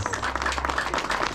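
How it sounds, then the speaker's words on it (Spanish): Applause at a children's sport fishing championship award ceremony for pejerrey in San Isidro, Cochabamba, Bolivia: steady, dense clapping from a small crowd, fairly close, continuing throughout. "Y los aplausos, compañeros"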